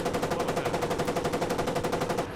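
A war video game machine gun fires a steady, evenly spaced stream of rounds at close range, roughly a dozen shots per second for over two seconds, with no talking.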